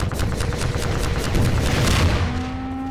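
Missile launcher fire and explosions in Half-Life 2, a loud, dense run of rapid blasts and gunfire that rumbles and then fades into a lingering tone.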